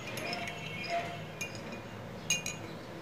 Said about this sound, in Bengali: আমি চামচ দিয়ে মিশিয়ে নেব এটি।